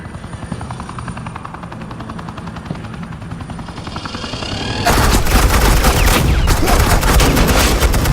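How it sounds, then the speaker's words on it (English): Gunfire erupts in a Batman video game, a sudden loud, dense wall of rapid automatic shots over a steady helicopter drone that carries on underneath. "Suppressing fire."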